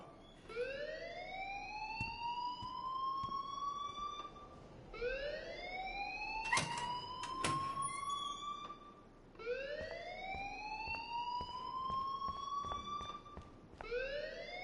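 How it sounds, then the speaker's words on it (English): A rising, wailing electronic alarm sounds in the Life Is Strange video game, its sweeping tone repeating in long cycles about every five seconds, loud and steady with a few brief clanks in between. "please turn off that alarm since that's your job"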